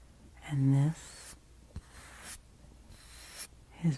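Soft, close brushing strokes across an object in a quiet ASMR setting, coming in a few separate sweeps with pauses between them, and a faint voice-like sound partway through.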